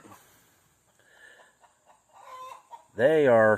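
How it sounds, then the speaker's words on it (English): Faint scattered clucks and rustles from laying hens give way to a loud, drawn-out squawking egg-laying cackle from a nearby chicken at the end. "Sounds like some chickens are laying an egg."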